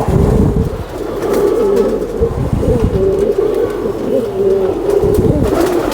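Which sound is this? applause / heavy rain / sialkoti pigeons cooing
sialkoti pigeons cooing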